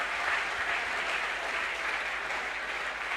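A church congregation applauds steadily during a Sunday service, dense clapping filling the room at an even level throughout with no voices rising above it.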